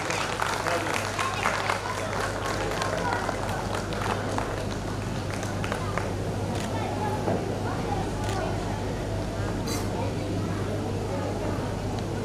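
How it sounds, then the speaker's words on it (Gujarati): Audience at a Mewada Suthar community gathering applauding a person called to the stage, sustained dense clapping from a crowd throughout, with voices mixed in. "ભાઈ વિશ્વાસની માટે જોરદાર તાળીઓ થઈ જાય."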